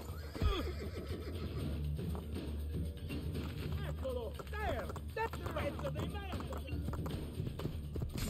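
A horse neighs and whinnies in the Assassin's Creed 2 video game, with hoof clip-clops and battle sounds in the mix and a person talking over them.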